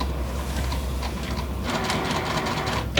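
A sewing machine stitches quilt pieces together in quick rhythmic bursts, the needle clatter steady at first and then picking up with brighter mechanical rattling, close and alone.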